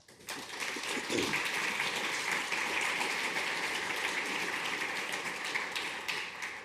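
An audience at a conference panel applauds to welcome the panelists, a dense, sustained wash of clapping that holds at an even level for several seconds before tapering slightly at the end.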